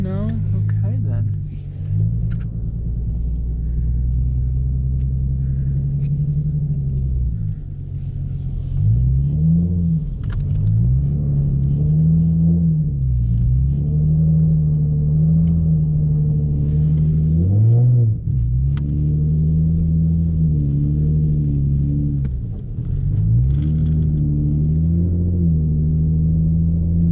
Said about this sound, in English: Let's go do a quick donut over here.